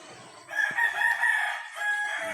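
A rooster crows once, loud and close, its drawn-out call set against quiet outdoor morning background with no talk.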